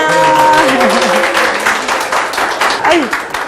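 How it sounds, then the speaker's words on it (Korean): Church audience at a Korean congregation event breaks into applause, dense clapping filling the hall, with a voice talking over the start and tonal voices mixed in. "박수 부탁드립니다"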